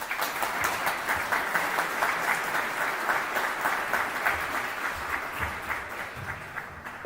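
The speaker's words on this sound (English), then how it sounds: "Let's give Attorney Lunkins another wonderful round of applause." Steady, sustained clapping from an event audience at the iTec gathering, a continuous crowd round of applause with slight rhythmic pulsing, no talking over it.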